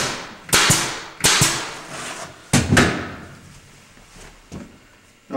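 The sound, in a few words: staple gun stapling luan plywood onto OSB subfloor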